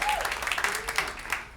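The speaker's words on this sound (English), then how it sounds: "Don't clap for that." Brief burst of audience clapping at a stand-up comedy bootcamp show, a moderate smattering of hands that fades within under two seconds, with the comedian's voice briefly audible over it.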